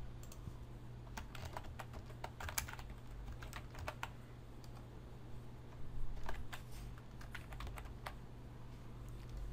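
Steady keystrokes on a computer keyboard as a project name is typed, quiet clicks in irregular bursts over a low constant hum, with no talking.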